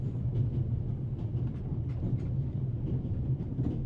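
Steady interior train ambience from the video game The Raven Remastered: a continuous low rumble of a moving carriage with faint rhythmic clicks, heard throughout with no talking.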